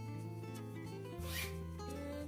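A zipper is closed on an elastic pouch that holds gym clothes for washing, giving one brief raspy zip up close over a steady tonal background.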